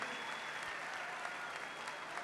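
Steady, dense applause from a crowd at a political rally in Navolato, Sinaloa, honoring the nation's elderly, sustained evenly throughout without breaks or voices.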